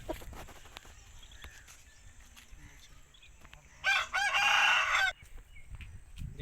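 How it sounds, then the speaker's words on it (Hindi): An Aseel rooster of mushky colour, a Lasani mushky cross, crows once loudly and close by for about a second, over quiet background with faint handling noise. "जो सैयद जुल्करनैन शाह नकवी साहब हैं उनका तीसरा मुर्गा मेरे हाथ में है।"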